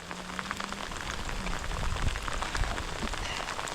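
Steady rain falls on wet pasture in very wet weather, a continuous dense patter with scattered close drops. No voices are heard.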